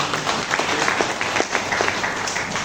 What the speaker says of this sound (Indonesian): Berikan tepuk tangan kemudian.